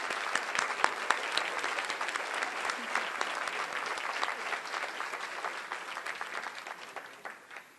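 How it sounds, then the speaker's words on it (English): Sustained applause from a luncheon audience honoring event sponsors, a dense steady patter of many hands that carries on for several seconds and gradually thins toward the end. "Please join me in a round of applause for these generous underwriters."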